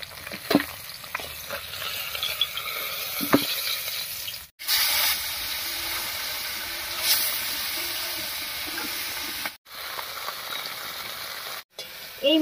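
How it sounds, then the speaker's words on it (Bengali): Fish fries in hot oil in a pan, a dense continuous sizzle with crackles and occasional stirring scrapes, briefly cut off a few times. "এই মাছ কটা ভাজা হয়ে গেছে"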